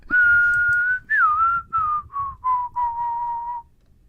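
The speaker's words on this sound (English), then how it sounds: "But she's trying to learn to whistle." A woman learning to whistle produces a sustained whistled note, then a string of short, slightly falling whistles, close and clear over faint background noise.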